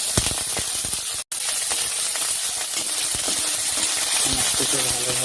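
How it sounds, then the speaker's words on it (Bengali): Cabbage frying with whole cumin, whole chillies and ginger paste in a pan: a continuous loud sizzle and hiss, briefly cut to silence once, with scattered small pops and clinks. "সমস্তকে ভালোভাবে ভেজে নিচ্ছি।"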